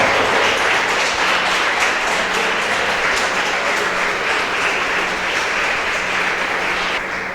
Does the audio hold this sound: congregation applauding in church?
yes